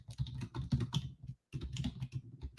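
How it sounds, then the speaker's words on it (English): Fingers tap steadily on a computer keyboard, a quick close clatter of keystrokes with a brief pause midway before the typing resumes. "So I'm typing that in our WebEx."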